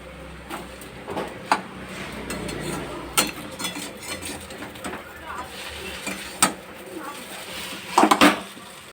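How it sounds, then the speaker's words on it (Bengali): Chow mein is fried in a pan, with a low background sizzle under scattered sharp clanks and scrapes of a utensil on metal, plus a quick cluster of knocks near the end. "এবার চাউমিনটাকে ভালো করে ভাজতে হবে,"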